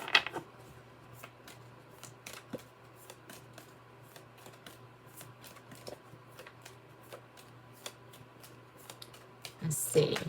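A Sacred Travelers oracle card deck is shuffled quietly and close by, with soft, irregular flicks and riffles throughout and a brief louder rustle near the end.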